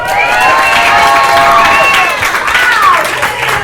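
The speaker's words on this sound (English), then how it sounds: "That was a lot of people cheering." Storytelling game show audience cheering and clapping for a contestant, a dense, loud burst of shouts and whoops over applause, steady throughout with no talk.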